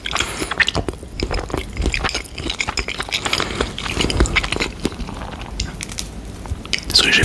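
Close mouth sounds from an ASMR tasting session: wet chewing, biting and crunchy smacks repeat irregularly throughout, intimate and near, with faint crackles and whispery breaths between them.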